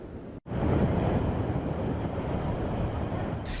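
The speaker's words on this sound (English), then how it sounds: "Towering waves crashing ashore, the beach eroding before our eyes." Big surf from Hurricane Dorian pounds the Florida coast, heavy waves crashing ashore against an eroding beach in a loud, continuous roar mixed with wind noise, with no voices.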